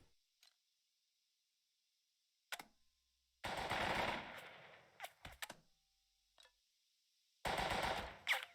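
Bursts of machine gun fire from the wargame Burden of Command: a short burst near 2.6 seconds, then two long, loud rattling volleys separated by a few isolated shots and silence.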